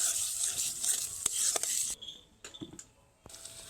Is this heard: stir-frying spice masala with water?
yes